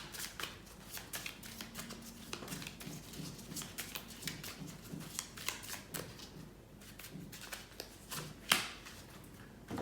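Cards being handled and set down on a table: a quiet, continuous run of soft flicks, slides and light taps, close and irregular, with no talking.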